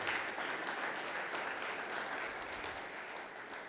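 Congregation clapping steadily and loudly throughout a Sunday church worship service of praise and thanksgiving, a dense wash of many hands with no break.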